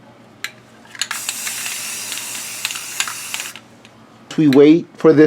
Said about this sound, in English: I'm gonna put more spray paint here, and as you can see, it's dissolving.